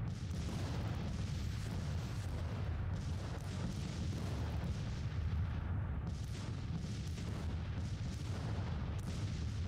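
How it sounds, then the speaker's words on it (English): Steady, dense artillery fire in the Civil War strategy game Grand Tactician, anti-infantry cannon booms rolling continuously for the whole stretch with no talk over it. "Looks like it's mostly anti-infantry artillery going on here."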